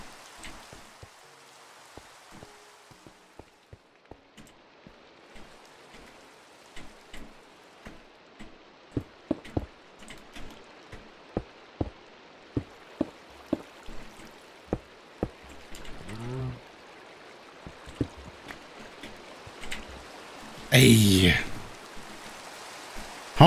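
Rain pattering outside a shelter in a hardcore survival game, with steady hiss and scattered drop ticks at moderate level, swelling into a brief louder burst near the end.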